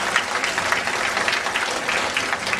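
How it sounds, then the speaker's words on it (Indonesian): An audience at the close of a science talk applauds, producing a steady, moderately loud patter of many clapping hands that continues evenly throughout. "Tepuk tangan untuk Robi"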